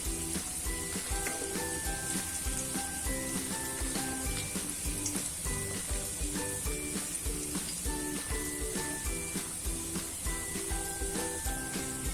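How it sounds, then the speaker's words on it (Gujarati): Garlic fries in hot oil in a pan for Gujarati dahi tikhari, a steady dense sizzle with crackling pops running continuously and close. "આ રીતના આપણે બધી બાજુથી સરસ લસણ પાકી જાય એટલે આપણે થોડું થોડું હલાવતા રહેશું"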